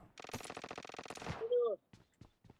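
Automatic gunfire in the mobile game PUBG Mobile: a fast, evenly spaced burst of shots lasting about a second, then a whistling tone and a few scattered single shots, fairly quiet overall.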